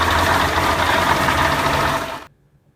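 A Caterpillar 3406E 893-cubic-inch inline-six diesel engine runs with a loud, steady, dense rumble for about two seconds, then cuts off abruptly into near silence.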